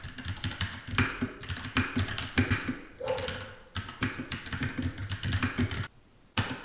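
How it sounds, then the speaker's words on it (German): Mechanical keyboard with brown switches typed on about 12 inches away: quick bursts of clacky keystrokes in uneven rhythm, moderately close, with a brief pause near the end and no talk. "This is how brown switches sound like about 12 inches away."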